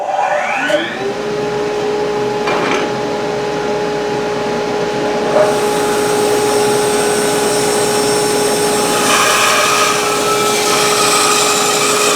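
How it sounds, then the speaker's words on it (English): A bandsaw spins up to a loud, steady whine as it cuts wooden guitar necks, its motor drone constant and close with a faint shift in pitch as the blade works through the wood. "we're going to cut them out on the bandsaw"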